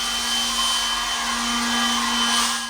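A small Milwaukee M12 BBL cordless blower runs at full power with a steady whine and whoosh of rushing air, clearing dry leaves off a hard surface. It stays close and unbroken, with no speech.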